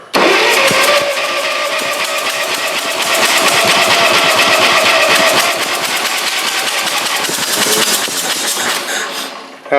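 An old Wisconsin engine with a damaged head and block is cranked and fires, then runs roughly and loudly at a mid-range pitch for several seconds before cutting off.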